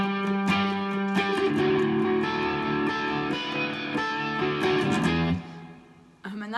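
A raucous, heavily distorted electric guitar riff from a song rings out loud and close in repeated chords, then cuts off and fades near the end.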